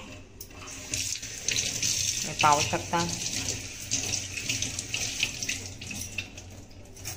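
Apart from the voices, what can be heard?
water being poured out of grated bottle gourd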